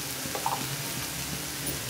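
Chili powder, coriander and cumin powder fry in a pan for rajma masala curry while a ladle stirs them, giving a continuous close sizzle with faint scraping throughout.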